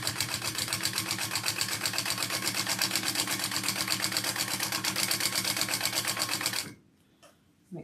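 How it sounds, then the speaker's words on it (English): A sewing machine top stitches an AnnaBelle shoulder bag, its rapid even needle clatter running loud and close for several seconds, then stopping abruptly, leaving near silence with a faint click. "I'm just gonna top stitch all of this on."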